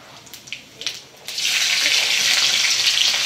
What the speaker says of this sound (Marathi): तेल तापलेलंच आहे, त्यावर जिरे टाकू